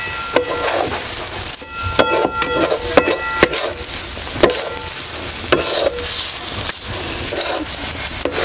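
A potato and besan mixture cooks in a pan while being stirred, with a soft frying hiss punctuated by sharp clinks and scrapes of the spoon in an irregular rhythm, close up and without talking.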